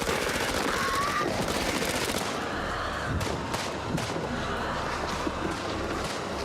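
Gunfire rattles in The Dark Pictures: House of Ashes, rapid shots sounding over a constant loud wash of game noise and tension, with a few sharper bangs in the second half.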